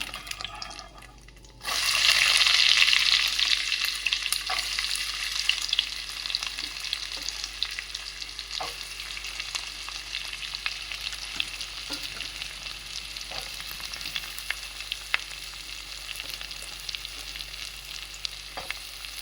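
Onions hit hot oil in a pan for a prawn, okra and egg curry, and after a brief quiet moment a loud, steady frying hiss takes over and holds close and constant.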